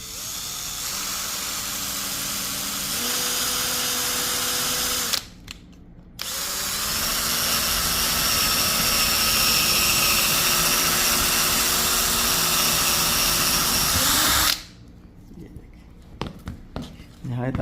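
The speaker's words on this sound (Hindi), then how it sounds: "तो छोटे वाले ड्रिल से इसमें होल कर लिया जाएगा।" Small electric drill boring a hole, running in two long loud whining bursts with a brief pause between, then stopping, followed by faint clicks and handling noise; speech is also present.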